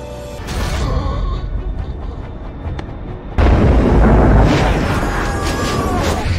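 A low rumbling backdrop gives way to a sudden, powerful bomb blast, followed by a sustained roar of debris and crackling that stays loud to the end.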